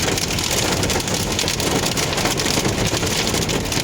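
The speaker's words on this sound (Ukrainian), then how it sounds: "Оце дощик." Steady heavy rain patters on a surface, a dense continuous hiss close by with no voices.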